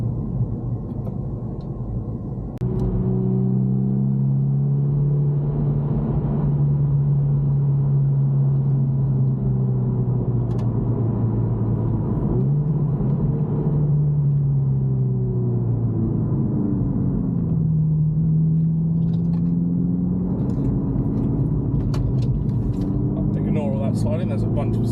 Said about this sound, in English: we'll start driving and see what happens